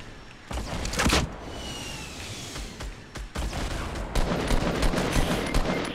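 SCAR assault rifle fire in a Fortnite Battle Royale fight, loud repeated close shots and short bursts with distant shots between them, continuing through the clip.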